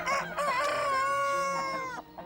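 A three-year-old rooster crows loudly and close by, one long drawn-out cock-a-doodle-doo that rises and holds before tailing off.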